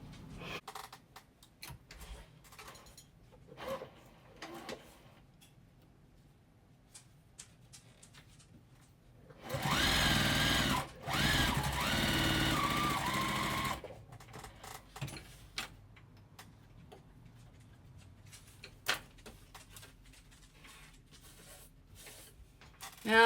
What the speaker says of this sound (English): So now I'm just going to sew these together with this, and then I'll come back and sew all the rows.